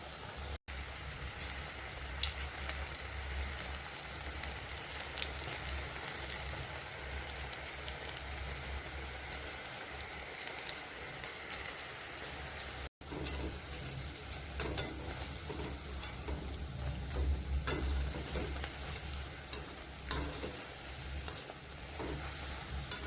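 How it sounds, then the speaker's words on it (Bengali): Besan pakoras frying in hot oil, a continuous crackling sizzle with scattered sharp pops and occasional stirring, steady and close with no talk. "পকোড়া ভাজা হয়ে গেছে, দারুণ হয়েছে।"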